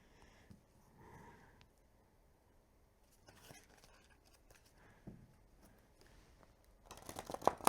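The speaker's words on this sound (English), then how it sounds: "let's see if I could do a shuffle test here." Deluxe tarot cards are shuffled by hand in quiet, sparse bursts of soft riffling and flicking, faint with pauses, ending in a louder close flurry.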